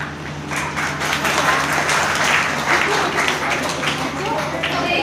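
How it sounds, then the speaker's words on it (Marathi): A crowd applauds during a Dr. B.R. Ambedkar Jayanti speech, with full, steady clapping that swells slightly midway and continues throughout. "टाळ्या जर वाजवायच्या असेल तर इमानदारीने टाळ्या वाजवा"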